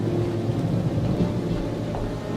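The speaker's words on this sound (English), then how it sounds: "I see that Baal is sending us rain." Thunderstorm with steady heavy rain, a loud continuous low rumble of thunder under a dense hiss of rainfall, used as a sound effect in a biblical audio drama.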